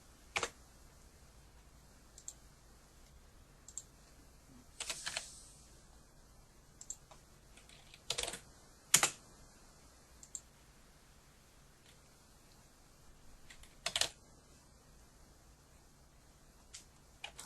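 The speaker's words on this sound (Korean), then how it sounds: "한자 키를 눌러서" Scattered, faint key presses on a computer keyboard come as single soft clicks at irregular intervals, with long quiet pauses between them in an otherwise still room.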